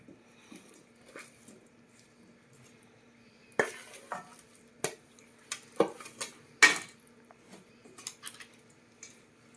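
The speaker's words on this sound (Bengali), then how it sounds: "এইভাবে ভালো করে তেলটাকে মিশিয়ে নিতে হবে।" Oil is mixed into amla pickle in a pot, with sharp spoon-on-metal clinks and scrapes arriving in irregular bursts over a quiet background, several louder knocks in the second half.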